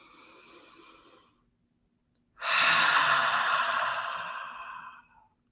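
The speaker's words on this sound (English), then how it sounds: "One more time, we're going to breathe in." Slow, deep breaths during a guided abundance meditation: a soft, brief exhale or inhale, a pause of silence, then a long, loud, airy breath lasting nearly three seconds, close and alone with no talk.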